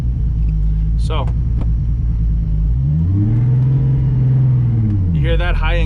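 A car engine revs up and down while driving, a loud rising and falling rumble with brief sharp noises near the start.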